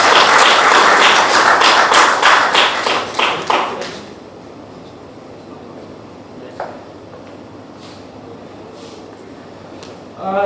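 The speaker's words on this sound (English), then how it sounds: "We can have a good applause on it" An audience at a business firm's sixth anniversary celebration in Pune bursts into dense, close applause for about four seconds. The clapping then dies away, leaving a few scattered claps and quiet room tone.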